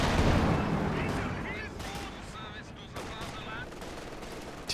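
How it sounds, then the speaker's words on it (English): A Panzer IV tank gun fires in Company of Heroes 2, opening with a loud, heavy boom that rolls off slowly into battlefield rumble. A commentator talks over the fading noise. "Good shot there from the Panzer IV."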